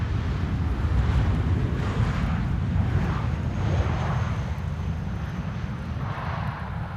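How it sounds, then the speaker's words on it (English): An Icelandair Boeing 737 Max 8 landing at Amsterdam Schiphol Airport, a broad rumbling jet roar heard from a distance, steady and loud with wind buffeting the microphone and no talk. "Iceland Air Flight 500 landing here. Max 8 737"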